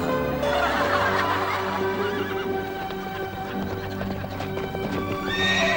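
A horse neighs loudly in a long whinny, with clip-clopping hooves following and light laughter in the background of a Polish-dubbed sitcom scene.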